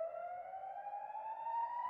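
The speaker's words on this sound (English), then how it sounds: "a siren automatically goes off in settlements near the Gaza Strip" Israeli air raid siren sounding near the Gaza Strip, a single sustained wailing tone slowly rising in pitch, steady and somewhat distant.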